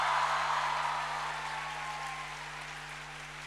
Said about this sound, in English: A huge round of applause for all those guys on the screen